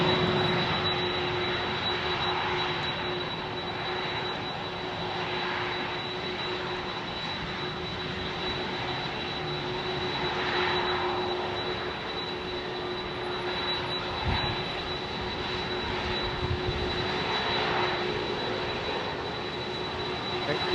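An Airbus A380 departing runway 27R at London Heathrow gives off a loud, sustained close-up jet roar with a steady high whine, swelling slightly over about twenty seconds.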